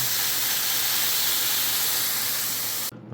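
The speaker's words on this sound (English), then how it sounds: "Got my bacon in there, getting ready." Bacon sizzling in a pan, a steady loud hiss of frying fat that runs unbroken and then cuts off abruptly at the end.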